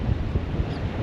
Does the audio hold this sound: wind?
yes